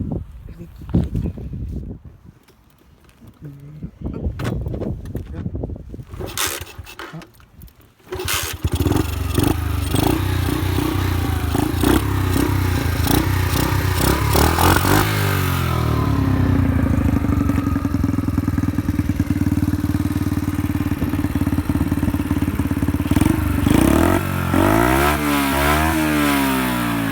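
A Honda Dax 50 small motorcycle engine starts after a few seconds of handling noise, then runs loudly and steadily nearby, with a few revs toward the end.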